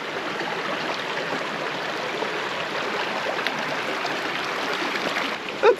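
A creek in the Payson, Arizona hills flows steadily, a continuous broad rushing and trickling wash heard up close, with a brief faint bump near the end.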